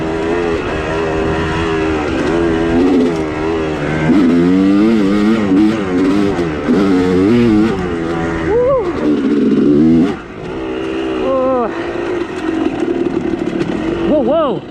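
A vehicle engine revs hard in second gear while climbing a steep hill off-road, its pitch rising and falling continuously for about fifteen seconds, with someone shouting and talking excitedly over it.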